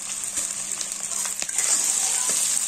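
Grated ginger and garlic fry in hot oil in a pan for street-style pav bhaji, giving a loud, close, continuous sizzle with small pops and a few stirring scrapes, no talking.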